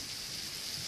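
Heavy rain pours steadily outdoors as a dense, even hiss with no pauses, faint and alone, without voices.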